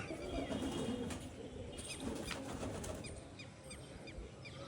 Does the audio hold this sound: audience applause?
no